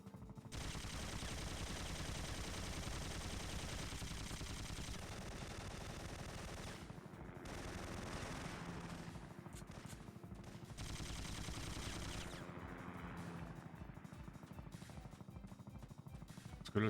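Sustained automatic gunfire from the Syphon Filter video game, dense rapid bursts running almost continuously at a steady loud level with brief gaps, no talking.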